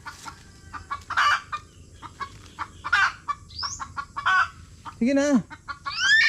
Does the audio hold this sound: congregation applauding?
no